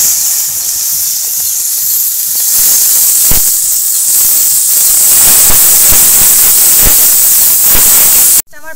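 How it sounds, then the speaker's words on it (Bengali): Onions frying in hot oil with cumin seeds for a village-style curry, a loud continuous sizzle and hiss with scattered crackles and spatters close by, no talking. "তেল গরম হয়ে গেছে, এবার পেঁয়াজগুলো দিয়ে দিই।"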